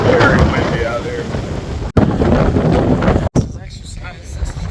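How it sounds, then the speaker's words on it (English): Strong wind buffets the microphone on a South Padre Island beach in Texas, a loud continuous roar with rumbling gusts that fills the whole stretch, briefly cutting out twice. "it's very windy out there"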